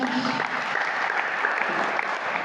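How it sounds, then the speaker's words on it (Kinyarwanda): A church congregation applauding together, a dense steady wash of clapping sustained at even loudness for a couple of seconds. "Dukomere Imana amashyi"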